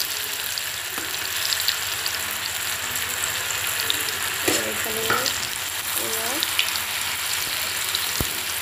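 Food fries in a hot kadai (wok) with a dense, even sizzle, broken by a few brief stirring scrapes and soft bubbling pops, close up and steady.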